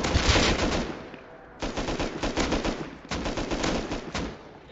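Automatic gunfire in a video game, three sustained rapid-fire bursts of loud, close shots with brief gaps between them.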